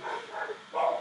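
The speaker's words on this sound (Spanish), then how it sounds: "tengo un pleito de perros" Dogs fight and bark outdoors, heard as a short, fairly faint burst of yips and barks at a distance.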